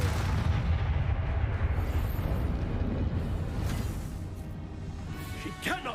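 A Confringo explosion spell cast in a wizarding video game bursts out as a loud, sustained blast with rumbling debris lasting several seconds, followed by a brief crackling flourish at the end.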